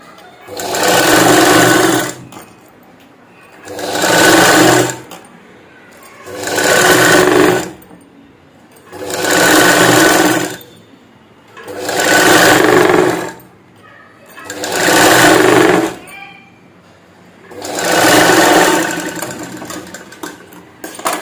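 Sewing machine stitching a strip for a princess-cut blouse, running in seven even bursts of about two seconds each, loud and close, with short pauses between runs.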